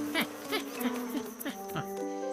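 Flies buzzing around a monkey in a jungle cartoon, a short wavering insect drone with pulsing swells over steady background music, fairly quiet.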